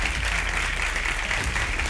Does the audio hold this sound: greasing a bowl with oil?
no